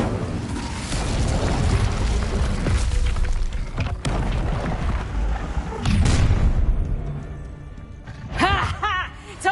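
An Incendio fire spell erupts in a wizard video game with a heavy booming roar and crackling burst, loud and dense, followed by a second blast and then voices talking near the end.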